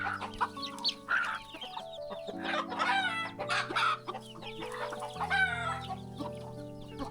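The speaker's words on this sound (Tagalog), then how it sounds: "Takot sa akin yung manok." Chickens cluck close by in a rural yard, with overlapping calls and a rooster crowing in between. Low steady tonal hums run under the birds.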